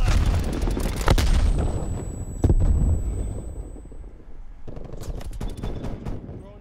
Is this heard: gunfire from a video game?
yes